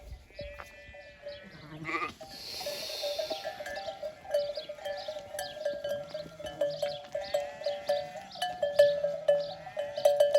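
Sheep bleat repeatedly, several animals calling over one another at close range, with a tinkling bell-like sound running through the whole stretch.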